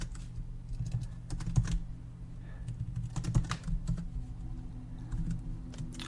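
Rapid typing on a computer keyboard while writing web code, with irregular bursts of clacking keystrokes and brief pauses, close and clear, with no talk.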